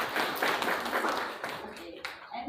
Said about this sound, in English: Please clap for the Supriya